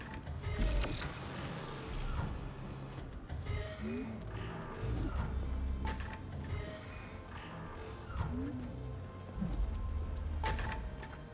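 Heavy mechanical door in the video game Atomic Heart grinds and clanks open, with repeated metallic creaks, ratcheting gear noises and thuds in loud bursts over a dense, continuous game soundscape.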